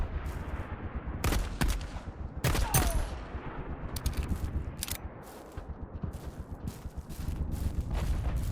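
Video game gunfire in a Normandy setting: several sharp, distant-sounding shots and short bursts scattered over a low rumbling ambience, with gaps of quieter background between volleys.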